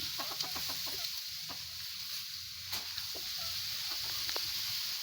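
Fighting chickens cluck in short repeated bursts, steady and nearby, over a constant background hiss, with no talking.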